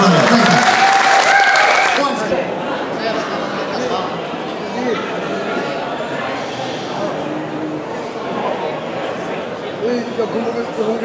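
A crowd at a concert at Åhaga applauds a band member, loud for about two seconds before dropping to a softer murmur of claps and chatter, with talk over it.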